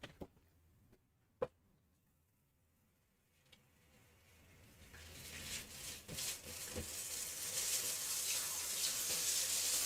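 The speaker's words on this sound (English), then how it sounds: "I'm going to wash off my jig" A craft jig rinsed under a running tap, water hissing steadily and growing louder over the second half, preceded by a few quiet clicks and knocks.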